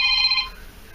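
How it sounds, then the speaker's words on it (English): A phone rings on a beach in Daytona during metal detecting, a bright electronic ringtone sounding loudly for about half a second before cutting off into quiet outdoor background. "Turn the phone off."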